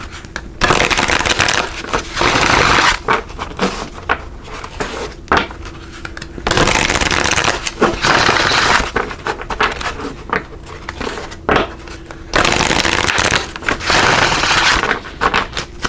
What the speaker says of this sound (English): We're also going to pull a card here from the numerology guidance cards.